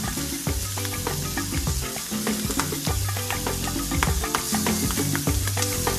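Baby squid sauté in oil with a loud, dense sizzle, overlaid by busy, repeated clatters and taps of a utensil tossing them in the pan.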